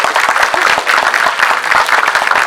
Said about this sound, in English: can we have a big round of applause for Mr.